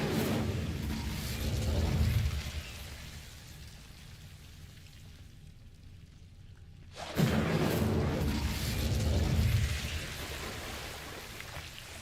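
The Incendio fire spell is cast in Hogwarts Legacy: after a quiet lull, a sudden roaring whoosh of flame bursts up loud and close, then a rushing, crackling blaze slowly fades.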